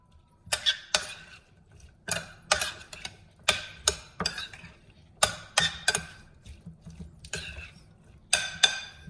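Repeated short scraping clicks as a spoon stirs taco filling with lime juice and corn in a bowl, an irregular series of crisp strikes close up, with no talk.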